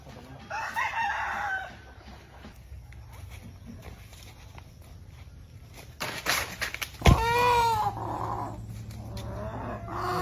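A chicken gives a hoarse clucking call near the start, then after a lull lets out a loud, close crow with a rising, wavering tone, backed by faint rustling and a low, growl-like noise.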